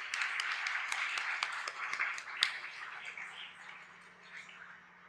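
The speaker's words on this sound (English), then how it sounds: "Let us give them a hand clap" A church congregation claps together in a lively, fairly quiet burst, with a few sharper individual claps standing out before the sound thins.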